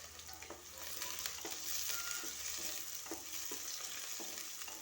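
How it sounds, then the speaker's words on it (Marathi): Finely chopped onion and curry leaves go into a frying pan with hot oil and cumin, giving a soft, steady sizzle with light stirring scrapes, fairly quiet and without any talk. "थोडासा कढीपत्ता आणि एक मोठा कांदा मी बारीक चिरून घेतलेला आहे तो त्यात टाकणार आहे"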